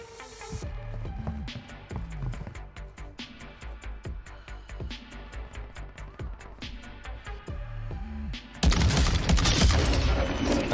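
A DMR rifle fires rapid, evenly spaced shots in Warzone Resurgence, loud and close, ending in a burst of heavier noise.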